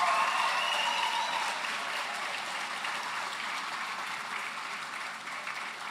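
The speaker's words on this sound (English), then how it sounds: "Keep that applause going." Sustained applause from a large audience at a college graduation ceremony, a dense, steady wash of clapping that holds for several seconds and fades slightly toward the end.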